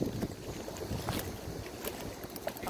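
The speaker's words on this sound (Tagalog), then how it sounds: "Ay lakas talaga ng hangin." Strong sea wind buffets the microphone in a continuous rough rush at high tide by the water, with occasional sharper gusts and no voices.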